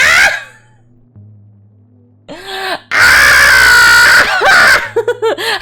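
A loud, sustained scream bursts out at a bad ending in a video game, preceded and followed by shorter vocal cries and groans, with a faint electronic hum underneath.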